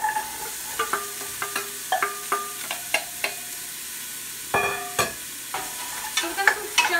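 Vegetables frying in hot olive oil for stuffed peppers, a soft sizzle beneath a series of close, sharp clinks and scrapes of a utensil against the pan, some brief and tonal, repeating irregularly.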